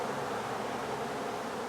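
Honeybees in a hive with a Kona queen drone in a dense, steady buzz, close and continuous, with no voices.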